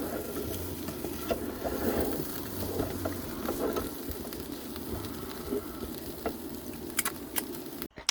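Food stirred and frying in a pan outdoors, a steady soft sizzle with scraping and clinking of a utensil throughout, ending in a short sharp knock.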